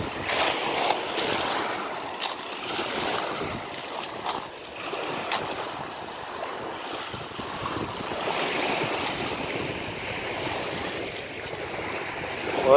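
Waves wash steadily onto Agios Theodoroi beach near Corinth in Greece, a continuous ocean hiss with soft surges and a little wind, no voices.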